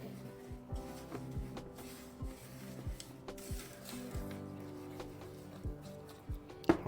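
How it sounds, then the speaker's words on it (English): A praline mixture with evaporated milk is stirred in a pot, giving steady rhythmic scraping strokes of the spoon against the pan, moderately quiet, with small clicks throughout. "Now we're going to stir all this together"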